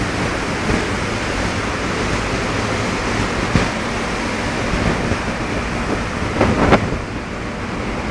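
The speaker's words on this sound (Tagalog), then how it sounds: "Alon, yan." Steady ocean surf washes in continuously, with a few louder breaking surges and some wind rumble.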